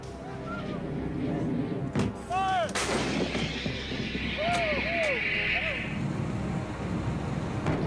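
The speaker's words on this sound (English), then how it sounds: "most effective of Desert Storm's guns was the M198 155mm howitzer" An M198 155mm towed howitzer fires with sharp, heavy blasts that crack and echo across open ground, and distant honking sounds and voices are heard between shots.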